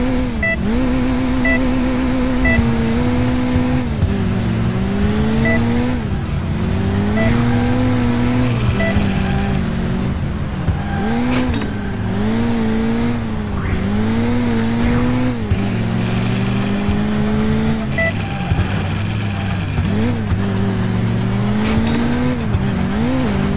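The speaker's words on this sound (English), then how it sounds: "The car will now try to get away from you" In the Crash Time 2 video game, a fleeing car's engine drones and shifts pitch as it accelerates, with tires squealing through turns, all loud and continuous.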